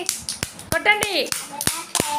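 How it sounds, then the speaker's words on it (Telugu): Children in a group clapping on request, a few sharp, separate claps spread over about two seconds, mixed with a voice speaking. "అందరు క్లాప్స్ కొట్టండి ఒకసారి"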